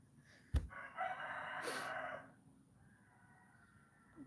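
A single rooster crows at a moderate distance, one long strained call, preceded by a sharp knock and followed by quiet background.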